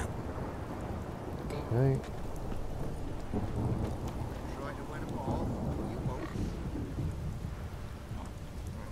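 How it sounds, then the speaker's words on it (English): Steady rain pours and low thunder rumbles through a storm in The Witcher 3, a constant wash of falling water under a brief spoken word, with one short louder burst early on. "Awfully sunny out to be hearing thunder"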